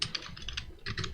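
Rapid keystrokes on a computer keyboard while an HTML form tag is typed, a quick uneven run of close, crisp clicks with a brief pause midway, no voices.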